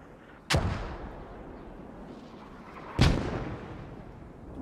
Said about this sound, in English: Ooh, mortars, a little far.